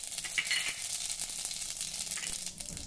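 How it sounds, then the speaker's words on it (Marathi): Mustard seeds sizzle and crackle in two tablespoons of hot oil while making Vidarbha-style patwadi, a steady dense frying hiss with small pops throughout, close and fairly loud, no voices. "तेल गरम झालं की त्यामध्ये थोडी मोहरी घालूया।"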